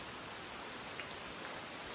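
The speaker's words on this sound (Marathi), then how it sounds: "पाऊस बघा कसला पडतोय सकाळी आल्यापासून मला भिजवलं आणि परत सुरू झालाय" Heavy rain falling steadily with a dense, even hiss of drops and no voices.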